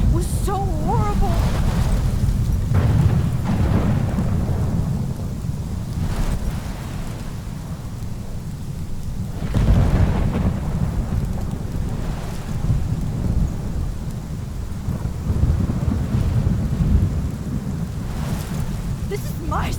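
Thunderstorm in Life is Strange, with steady heavy rain roaring throughout and several deep rolling thunder crashes swelling loudly over it.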